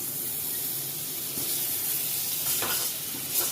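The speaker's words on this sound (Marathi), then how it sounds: "थोडंसं आपल्याला मेल्ट करून घ्यायचं बटर कारण की कढई गरम झालेली आहे आपली" Butter melts in a hot wok with a constant soft sizzle close by, joined by a few light stirring scrapes toward the end.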